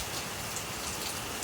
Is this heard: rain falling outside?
yes